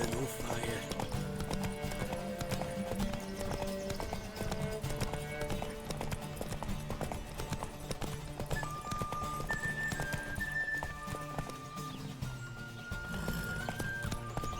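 Roach, a horse in The Witcher 3 video game, gallops with a quick, steady clip-clop of hooves, and a whinny and faint music sit underneath throughout.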